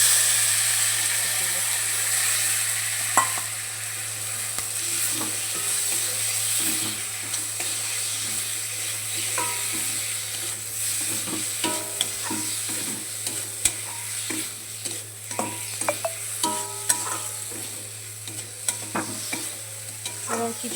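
Chopped tomatoes and green chillies frying in hot oil in a home kitchen while cooking egg curry, a steady close sizzle running throughout with intermittent stirring scrapes and clinks, and a faint voice at times.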